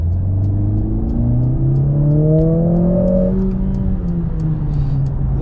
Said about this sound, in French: il y a juste à aller chatouiller l'accélérateur, tomber en haut de rapport et c'est un vrai missile qui s'élance